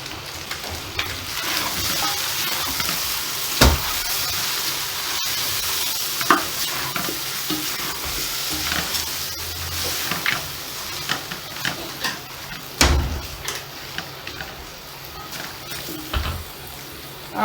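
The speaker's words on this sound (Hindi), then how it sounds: "अब बकाया मैं इसको नॉन स्टिक वाली कढ़ाई में 2 से 3 मिनट के लिए फ्राई करूंगी।" Mutton and cauliflower curry frying in a non-stick kadai, a steady close sizzle broken by repeated sharp scrapes and knocks of a spoon stirring against the pan.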